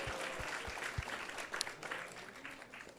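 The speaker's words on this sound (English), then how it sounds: "So let's give a big round of applause to them as well." Audience applause after a Krishna Katha talk, faint and steady, a soft patter of many hands clapping at a distance with a few low thumps, no voices.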